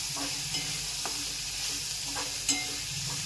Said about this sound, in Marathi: थोडा मसाला टाकायचा आहे, पुलाव मसाला. व ते सर्व परतून घ्यायचे आहे.